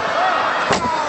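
A single sharp slam from a steel chair striking during a pro wrestling match, cutting through a loud, continuous crowd roar and an excited commentator's voice.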